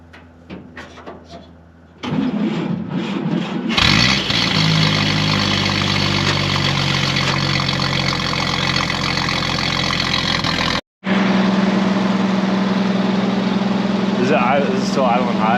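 A 1949 International KB-5 truck cranks over and catches, then settles into a loud, steady idle close by. The idle cuts out briefly and resumes with a strong low hum while people talk nearby.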